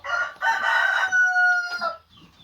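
Loud, close chicken calls in a coop, with a burst of clucking and drawn-out squawking cries, then it fades to quiet. No talking.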